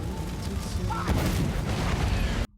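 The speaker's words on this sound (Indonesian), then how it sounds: "dan terjadilah ledakan." A film explosion that bursts in about a second in, then a sustained rumbling roar that cuts off abruptly near the end.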